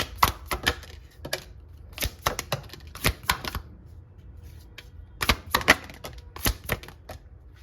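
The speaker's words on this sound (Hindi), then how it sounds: "मैं इनको साइड पे शफल कर रही हूँ" Tarot cards are shuffled by hand at close range, making bursts of crisp, rapid snapping clicks in clusters separated by brief quiet gaps.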